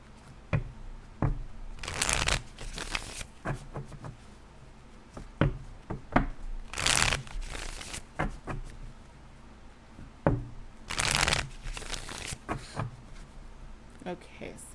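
Playing cards are riffled and bridged in several quick bursts, each a crisp fluttering rattle, with taps and handling noises between.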